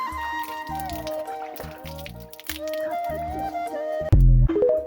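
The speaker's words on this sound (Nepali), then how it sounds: "अब चाहिँ मुख धुनको लागि पानी तयार गरिदिन्छु" Water sloshes, drips and gurgles as it is readied for washing the face on a cold morning, close and intermittent, ending in a louder splash and pour.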